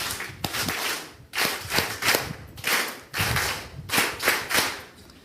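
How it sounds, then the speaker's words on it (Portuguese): Audience clapping at a public address, a series of loud rhythmic bursts of claps swelling and fading several times, close and prominent, with no talk over them. "Uma salva de palmas bem forte para o nosso Deus."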